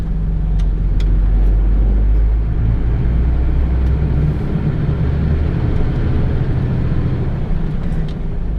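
An LGV C+E articulated truck pulling away after a right turn through Exeter streets, a steady heavy engine rumble with road noise, continuous and close, with no talk.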